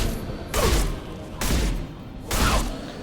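Three heavy, booming shotgun blasts in a sci-fi shooter, Mass Effect 2, evenly spaced about a second apart, each with a loud thump and a lingering roar over background combat ambience.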